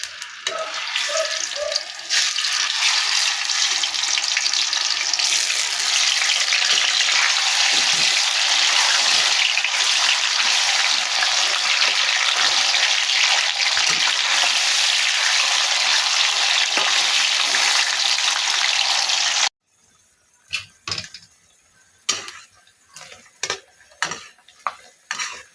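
Palong frying with sugar in hot oil in a pan, a loud continuous hiss and sizzle that cuts off abruptly near the end, followed by scattered clinks and scrapes of a utensil against the pan.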